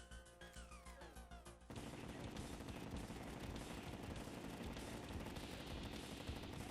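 Rapid gunfire from the Vortex Beater gun in the game Terraria during a fight with the boss Plantera. A brief rising electronic whine leads into a dense, continuous barrage of loud shots that runs to the end.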